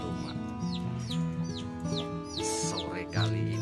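Green junglefowl clucking inside a breeding cage: a run of short, repeated calls at a fairly close distance, layered over a steady, sustained tonal background.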